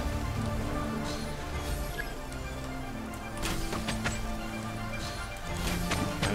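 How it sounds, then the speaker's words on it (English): Rain falls in the video game Genshin Impact, a steady dense patter that runs the whole way through, mixed with scattered combat clatter and crunchy impact sounds. "It's raining"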